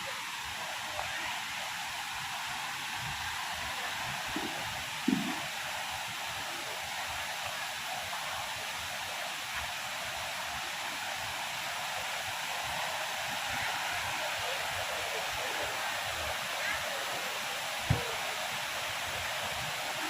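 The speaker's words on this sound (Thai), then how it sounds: "ถึงแล้วค่ะ น้ำตกมวกเลยค่ะ" Muak Lek waterfall in Saraburi, Thailand pours steadily, a broad continuous rush of water at moderate distance, with a couple of faint knocks and voices of a crowd far in the background.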